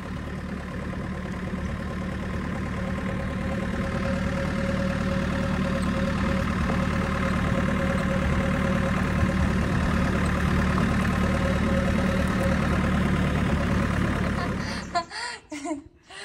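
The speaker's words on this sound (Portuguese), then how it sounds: "O pessoal gosta de ver Batian dirigindo um trator." A tractor engine idles in a steady low rumble with a faint whine for most of the stretch, then cuts off abruptly near the end, leaving a few knocks and rattles.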